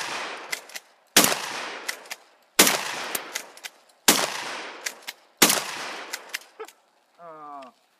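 Shotgun blasts fire outdoors, five sharp loud booms spaced about a second and a half apart, each with a short decaying echo, followed by a brief voice.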